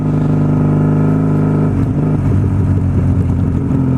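Honda Magna motorcycle engine revving hard on the throttle, loud and close, a steady rumbling drone that rises into rapid, pulsing acceleration in the second half.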